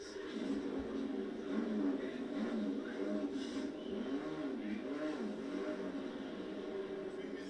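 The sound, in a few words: BMW M3 race car engine accelerating back into the race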